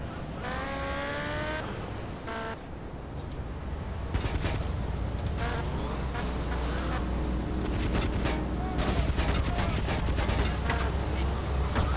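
SMG gunfire in GTA Liberty City Stories comes as rapid bursts of shots mixed with car engine noise and game effects, loud and continuous across the clip.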